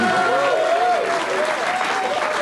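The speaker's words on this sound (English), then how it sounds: "You can give a little round of applause, audience, for this." A studio audience on a TV talk show breaks into a warm round of applause, loud and close, with some voices mixed into the clapping and a faint tone heard over it.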